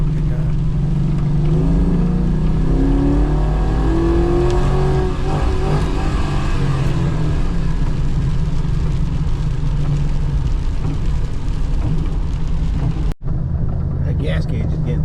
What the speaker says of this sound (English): Completely gun it when you don't know the brakes work.